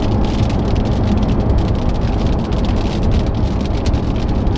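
Rain heard from a car on an Idaho freeway: a loud, dense and unbroken wash of drumming drops and road noise, steady throughout with no talking.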